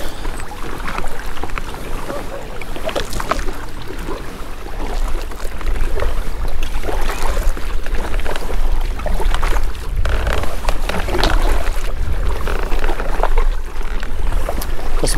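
A canoe is paddled briskly across a lake, with repeated splashing paddle strokes and water rushing past the hull, plus wind buffeting the microphone, loud and close throughout.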